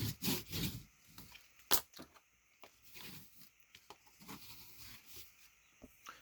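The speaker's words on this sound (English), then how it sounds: "So I'm just burnishing it." Paper being burnished down by hand for a handmade album spine, giving soft intermittent rubbing and scraping strokes with a few sharp taps, close and quiet, no speech.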